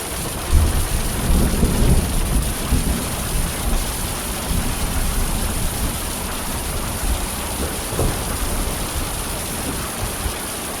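A summer thunderstorm over a self-built dome home: steady, loud rain hiss with deep rolling thunder rumbles near the start and again later, continuous and without voices.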